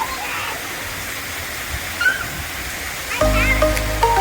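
Water rushes and splashes steadily down water slides in a resort's kids' area, a continuous hiss, with faint voices and a brief louder burst near the end.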